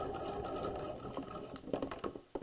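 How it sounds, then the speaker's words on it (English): A sewing machine back stitching the crotch seam of pajama pants, a close steady whirring run that breaks into a few uneven bursts near the end, with no talking. "When I get to the top, I'm going to back stitch."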